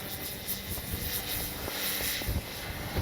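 A Hangar 9 Valiant RC airplane with a 20cc gas engine drones in flight on a windy day, a steady buzzing whine with slight swells as it passes at moderate distance.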